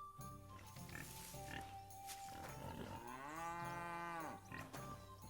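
A cow in the medieval game Kingdom Come Deliverance 2 lets out a long, loud, drawn-out moo that rises and falls, over a backdrop of layered village ambience with other lowing and faint animal noises.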